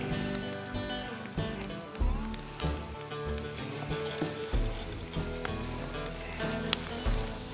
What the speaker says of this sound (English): I'm going to sear these steaks, these filet mignon, on top of this really hot rock in the middle of the fire